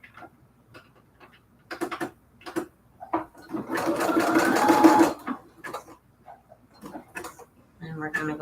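A domestic sewing machine runs a zigzag stitch in a short, steady mechanical burst of rapid needle clatter, framed by quieter clicks and handling noises before and after.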